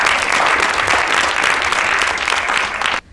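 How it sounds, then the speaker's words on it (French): Audience applause welcoming the president of a fifth short film festival in Brittany, a dense, loud wash of clapping sustained for about three seconds before cutting off abruptly. "Donc on peut l'applaudir déjà."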